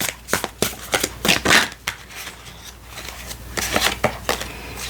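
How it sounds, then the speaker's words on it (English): A mini tarot card deck being shuffled by hand, a run of crisp riffling bursts and soft slaps that come in quick clusters with brief pauses between, close and clear. "Let's do a quick shuffle."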